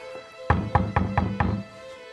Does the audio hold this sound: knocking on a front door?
yes